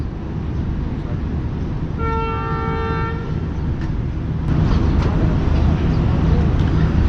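A 10 Down Allama Iqbal Express train departs a station, its horn sounding a steady multi-tone blast for about a second before fading back into low, continuous rumble and platform noise.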